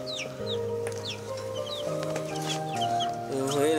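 Chickens and young chicks cluck and peep near a water spot, with several overlapping calls in an uneven rhythm, close and moderately loud, and a voice briefly audible underneath.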